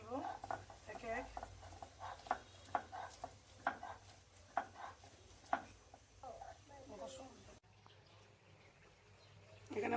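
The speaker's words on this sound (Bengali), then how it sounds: "রসুন বাটবো, এখানে আদা বেটে নেব, তারপর জিরা, কাঁচামরিচ এগুলো বেটে নিব এক এক।" Garlic, ginger, cumin and green chilies are ground into paste, giving a rhythmic series of gritty scraping strokes at close range with low kitchen background noise.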